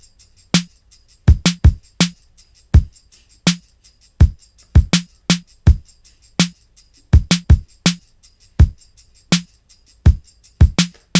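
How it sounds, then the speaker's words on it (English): A kick and snare groove on an electronic drum kit plays alone, sharp hits in a steady, syncopated pattern in a Logic Pro production recreating a song. "So the kick and snare sound like this."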